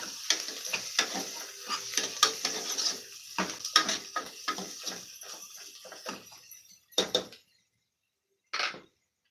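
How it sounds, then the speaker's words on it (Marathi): Ginger garlic paste sautés in a pan over low gas, with a soft sizzle broken by repeated close-up clinks and scrapes of a spoon stirring, which fade out and leave two short bursts near the end. "एक चमचाभर आलं लसूण पेस्ट टाकते मी आणि ती सुद्धा व्यवस्थित परतून घेतली आहे कमी गॅस केलेला आहे मी"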